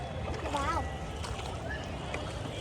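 Ride in a small boat on the lake at Nainital, with a steady low rumble of water and wind under nearby chatter from passengers throughout.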